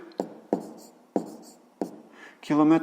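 Pen strokes writing out a maths solution for a fifth-grade exercise: a few sharp taps and scratches spaced about half a second apart, close and fairly quiet, then a brief voiced sound at the end.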